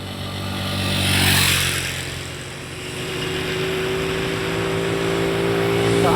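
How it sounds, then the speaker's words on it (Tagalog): Cars and motorcycles speed past on Enchanted Road in Talisay, an engine roar swelling loudly as a vehicle passes close, fading, then another engine building, with steady road noise throughout and no talk. "ang bibilis ng mga sasakyan."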